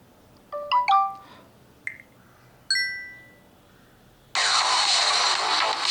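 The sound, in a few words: phone ringtone playing on a Vivo Y16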